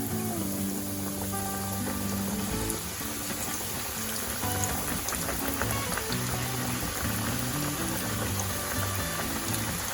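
Batter-coated chicken sizzles and crackles in hot oil in a pan, a dense, steady fizzing hiss that fills the whole stretch with no voices.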